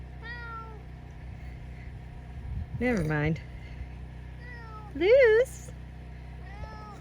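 A cat meows several times close by, two long loud wavering calls in the middle between softer shorter meows, with people talking and a steady low hum underneath.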